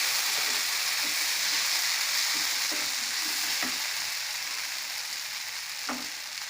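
Boiled vegetables are stirred with masala in a pan for tacos, giving a steady broadband sizzle with soft scraping strokes and a few sharper utensil taps, close and continuous without talk.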